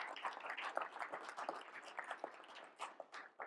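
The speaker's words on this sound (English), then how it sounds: "let's clap it up for yourselves for showing up today" A conference audience applauds together, a dense wash of many hands clapping at a steady level with no voices, thinning briefly near the end before swelling again.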